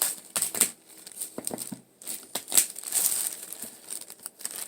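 Plastic shrink-wrap being cut and peeled off a Monty Python's Flying Circus Blu-ray box set, with close, irregular crinkling, crackling and small tearing snips, fairly quiet and without talk.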